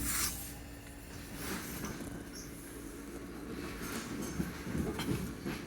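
A Southeastern Class 465 electric train runs on rails, a faint low rumble of wheels and motor with soft rattles and a few higher squeaks throughout.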